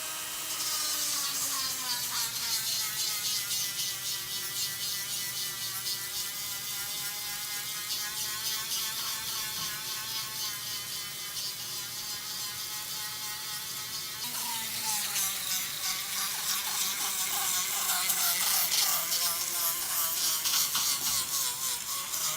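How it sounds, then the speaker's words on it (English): A rotary sanding disc whirs steadily against a wooden spoon, a continuous grinding buzz whose pitch shifts partway through as the pressure changes. "You can use whatever grit sanding disc that you want on this."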